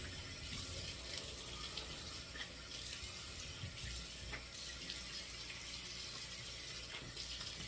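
Water runs steadily from a bathroom tap to rinse a razor head, a soft continuous splash with faint clinks over it.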